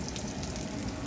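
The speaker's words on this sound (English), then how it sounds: "So it's starting to get brown. So this is the yellow onion." Yellow onion frying in a pot gives a continuous soft sizzle and crackle at close range, steady and alone.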